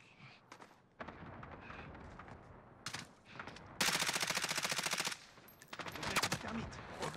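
Bursts of automatic gunfire in a video game shooter: scattered shots, then a long sustained rapid-fire burst, followed by more rapid shots, fairly close and loud over faint background ambience.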